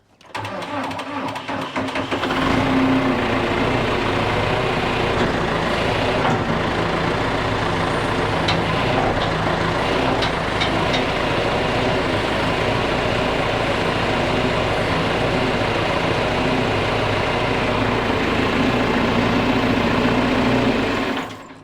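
A tractor engine cranks up and then idles loudly and steadily nearby, a continuous rattling drone that holds for the full length before cutting off.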